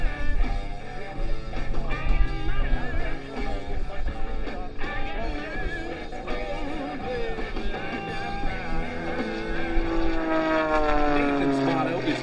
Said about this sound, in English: Flying this de Havilland DHC-1, designed as a trainer for the Royal Canadian Air Force, we're in for a display of aerobatics